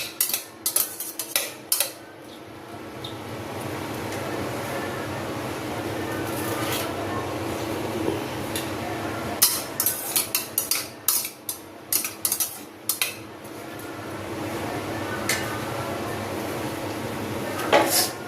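Onion and a large tomato cooking in a pan with a pinch of salt for a pea biryani, metal spoon scraping and clinking against the pan in irregular bursts over a steady sizzle, close by.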